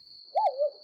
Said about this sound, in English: to the unearthly hoot of an owl